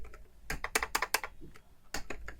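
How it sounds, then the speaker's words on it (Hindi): Close, crisp taps on a computer keyboard in short bursts, a quick flurry of keystrokes followed by a pause and a few more clicks, with no one speaking. "अब यहाँ पर मैं टाइप कर रहा हूँ"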